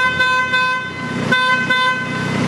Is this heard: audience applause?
no